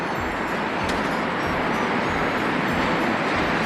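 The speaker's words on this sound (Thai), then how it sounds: "ถึงสถานีดอนเมืองแล้วนะคะ" Steady broadband rumble and roar inside Don Mueang railway station in Thailand, with trains and station bustle blending into a dense, constant wash of noise and no clear voices.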